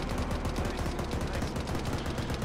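A vehicle gunner's heavy weapon fires continuously at a BTR in a military video game, a dense, loud stream of rapid shots with no pauses.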